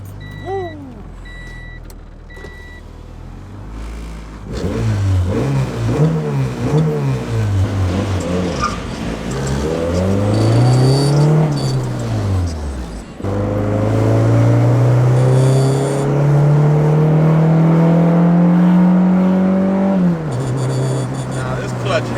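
A car engine fires up and revs hard in several rising and falling bursts, then holds a long steady high rev before dropping off, loud and close, with a voice calling out over it.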